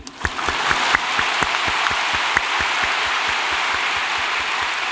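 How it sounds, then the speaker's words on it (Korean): A church congregation claps steadily during a sermon, a dense patter of hands with a few sharper claps standing out, continuing throughout at close range. "박수를 치기 좋은데 나도 한번 치겠습니다"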